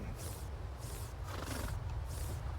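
Horses in the Farm Together 2 video game give four repeated whinnies in a regular rhythm, fairly loud and near, over a dense layer of game background sound.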